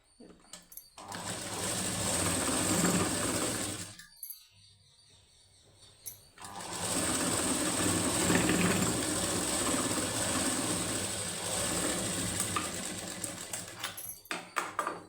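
A sewing machine stitches a plain high-neck blouse in two sustained runs, close and loud, split by a brief quiet pause.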